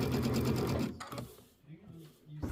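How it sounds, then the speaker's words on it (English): A sewing machine stitches quilt fabric with a fast, even mechanical whir close by for about a second, then stops, leaving a quiet gap with faint voices before a brief return of sound. "and then I'm going to let it sew."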